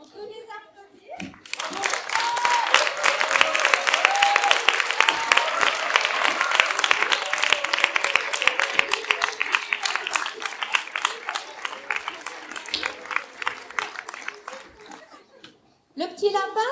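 An audience claps for a children's Christmas show at a school, a dense, sustained burst of applause lasting around fourteen seconds with light laughter and a voice riding over it, then cutting off abruptly as a voice speaks.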